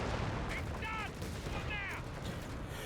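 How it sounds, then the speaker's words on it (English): Creeping artillery barrage in the Company of Heroes 3 strategy game, a dense rumbling wash of shell blasts and booms that runs without a break, with a few whistling tones laid over the steady roar. "I didn't think that the creeping barrage was going to take that kind of awkward angle."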